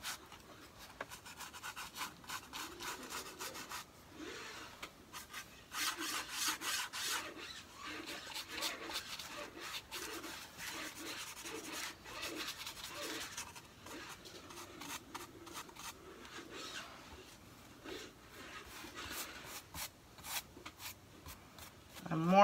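Sanding to distress a wooden farmhouse memo holder gives a steady rasping scrub with rhythmic back-and-forth strokes, soft and close, running continuously without talk.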